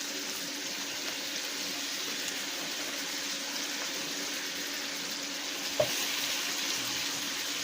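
Sea bass and jumbo tiger stripe shrimp sauté in a pan, giving a steady, even sizzle with a faint hiss throughout and one brief clink near the end.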